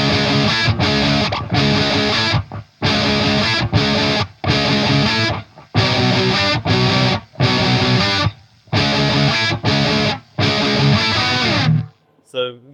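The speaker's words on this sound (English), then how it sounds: "fifths I use quite a lot" Heavily distorted electric guitar plays repeated chord stabs in bursts separated by short silences, loud and close, with no talking.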